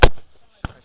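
Two sharp, loud reports ring out close by at an American Civil War re-enactment, a heavy musket blast first and a second shot about half a second later, each with a short fading tail and no talk over them.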